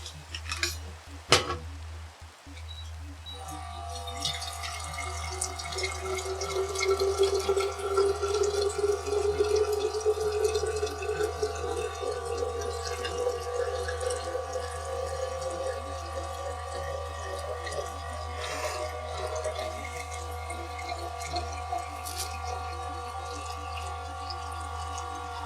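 A tap runs water into a sink after a couple of sharp knocks, a steady moderate stream lasting over twenty seconds with faint dripping and clinking dishes.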